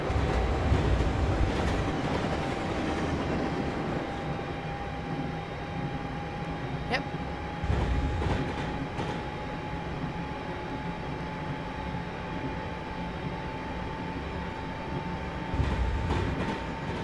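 A Class 350 EMU electric train in a train simulator rumbles steadily past on the West Coast Main Line, a continuous dense roar with rhythmic clatter bursts and a faint high tone throughout.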